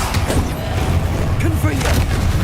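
A Bombarda blasting spell explodes in the Hogwarts Legacy video game, a dense booming blast under continuous game noise and a player's voice.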